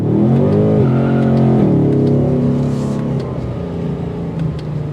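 2024 Ford Mustang GT Premium engine accelerating hard, a loud close roar rising through the revs with quick shifts and dips, then settling into a lower steady drone.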